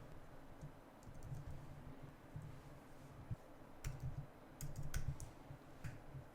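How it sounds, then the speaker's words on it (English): JavaScript code being typed on a computer keyboard: quiet, close key clicks in irregular bursts, with short pauses between runs of keystrokes. "I'm just going to write some meaningless JavaScript."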